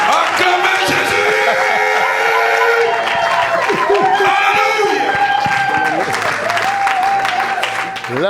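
Church congregation at a deliverance and miracles service loudly applauding, cheering and whooping for Jesus, a sustained dense wash of clapping and voices with shouts and singing-like tones rising through it.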